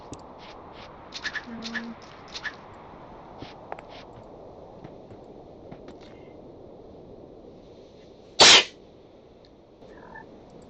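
A single sharp, loud human sneeze bursts out close to the microphone after a stretch of quiet, faint clicks and rustles, followed by a soft, brief sound.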